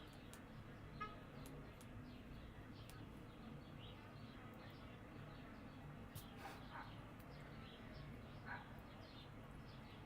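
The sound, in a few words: dog barking outside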